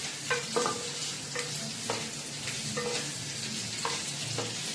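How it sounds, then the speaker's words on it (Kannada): Onions sizzle as they fry in a pan for chicken biryani, with a steady crackle and repeated scraping strokes of a spoon stirring close up. "ಸ್ವಲ್ಪ ಬ್ರೌನ್ ಆಗೋವರೆಗೂ ಫ್ರೈ ಮಾಡ್ಕೋಬೇಕು"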